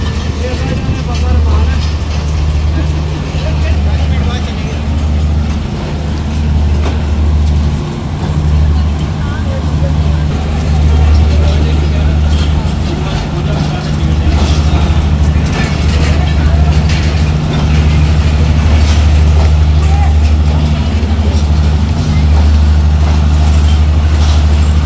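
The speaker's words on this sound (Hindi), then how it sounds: "करीबन 5 मिनट के फासले से ये ट्रेन निकल रही है" The Pakistan Express pulls out of Lahore railway station with a steady, loud, low rumble and hum that holds for the whole stretch. Faint voices sit underneath.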